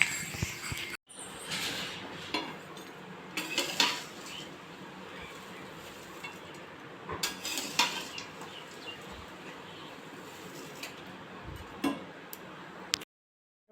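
Flattened rice tipped into a pan of hot oil tempered with spices and chillies, stirred with a utensil that scrapes and clinks against the metal in irregular bursts, with a faint background hiss.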